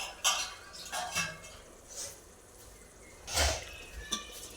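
Chicken biryani being stirred in a pot, with a few scattered scrapes and clinks of a spoon against metal, soft and close, separated by quiet pauses.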